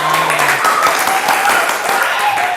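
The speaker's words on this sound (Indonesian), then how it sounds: "Tepuk tangan dulu" Students in a classroom clap together, a short burst of close, loud applause from a small group that continues evenly throughout, with faint voices underneath.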